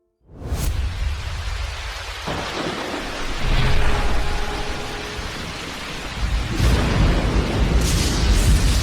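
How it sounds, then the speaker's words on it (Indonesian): Rain pours steadily outdoors as a dense, loud hiss, with heavy rumbles of thunder rolling in and swelling partway through and again near the end, and no voices. "Bu, di luar sudah hujan."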